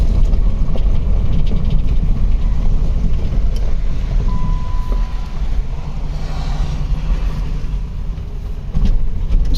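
A 2010 Chrysler Sebring Convertible's 2.7-litre engine runs rough up close, a loud uneven low rumble with irregular shudders and knocks throughout.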